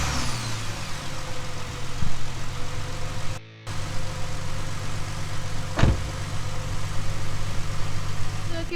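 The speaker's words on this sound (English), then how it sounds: "So now I'm going to start the good car to let it run for a second and charge up the dead battery" A good car's engine idles steadily during a jump-start of another car's dead battery, a low continuous rumble with a brief dropout partway through and a short sharp noise near the end.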